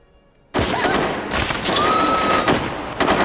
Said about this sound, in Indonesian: Lalu mereka kembali melakukan aksinya dengan menembak semua orang yang ada di ruangan tersebut dengan brutal.